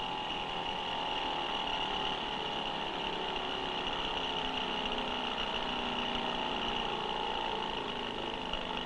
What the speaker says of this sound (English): The machine now runs in the forward direction as a Stirling engine.